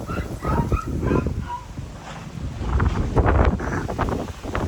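Hurricane-strength gusty wind on Zakynthos buffets the microphone with low rumbling bursts, and a dog barks a few times early on.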